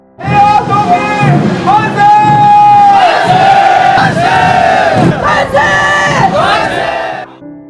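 A large crowd of students and townspeople shouting in an independence protest, loud sustained massed cries that rise and fall in long waves, close and filling the whole stretch.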